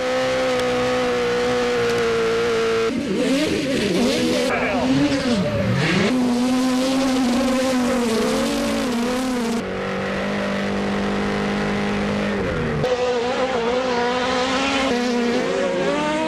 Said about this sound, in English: These 4 cylinders, they don't quite sound like the Pro 2-wheel drives, the Pro 4x4s